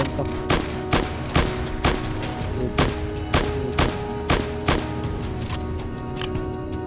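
Gunfire in a Roblox war game set in 1968, firing as suppressing fire: a dozen or so sharp shots at a loose, roughly even pace over a steady background hum, with no talk.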